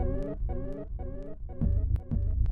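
A Sequential Trigon 6 synthesizer with its feedback turned up, churning out a throbbing, pulsing low tone in regular repeated bursts that thicken and grow louder and grittier halfway through, heard alone without voices.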